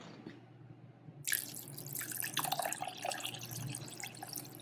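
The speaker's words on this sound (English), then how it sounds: "Now we are going to pour in 3½ cups of water." Three and a half cups of water are poured into a container of water beads, a steady close splashing and trickling stream that starts abruptly and keeps running.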